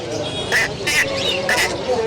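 Grey parrots call at a busy exotic pet market, with several sharp, loud squawks about half a second apart over background chatter and market noise.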